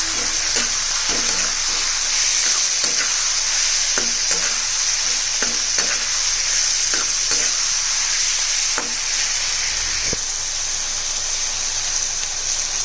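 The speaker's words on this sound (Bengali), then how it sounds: "চলো এটা ভালো করে মিশিয়ে দেবো।" Ground coriander and a little salt are stirred in a sizzling pan, a constant loud frying hiss with a spoon scraping and tapping at irregular intervals throughout.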